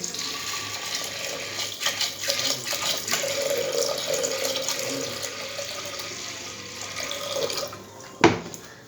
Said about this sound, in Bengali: জল দিয়ে দেবো পরিমাণ মতো।